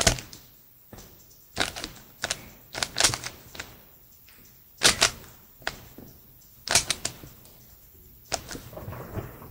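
Dayan GuHong Rubik's cube being turned with corner cutting, a series of sharp plastic clicks and clacks in irregular bursts, close and alone.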